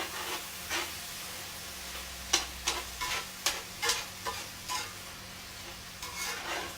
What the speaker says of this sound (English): This is cooking very nicely, just the way I want it to do. Tomatoes are starting to pop.